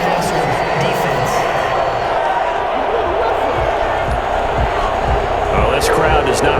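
Stadium crowd in the Madden NFL 21 football video game reacting to a roughing-the-passer penalty, a loud sustained roar with scattered thumps and cheers, steady throughout with a voice talking over it.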